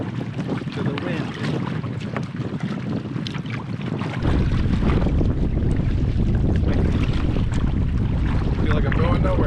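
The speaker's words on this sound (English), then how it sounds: "Nothing like a 20-mile-an-hour headwind." A strong 20-mile-an-hour headwind roars across a canoe on an exposed lake, steady loud buffeting on the microphone with water wash beneath, growing even heavier partway through.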